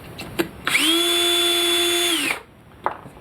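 A power drill spins a Lee cutter and lock stud trimming Lake City 5.56 brass, giving one close, loud whine of about two seconds with a rising start and falling stop, bracketed by small clicks.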